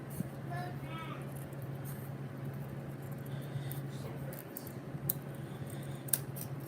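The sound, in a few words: scissors cutting paper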